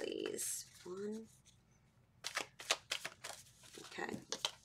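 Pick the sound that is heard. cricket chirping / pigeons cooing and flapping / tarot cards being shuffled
tarot cards being shuffled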